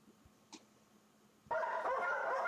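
Dogs bark loudly at an animal shelter in a dense, continuous burst after a quiet stretch with one faint yip. The barking sounds close and overlapping.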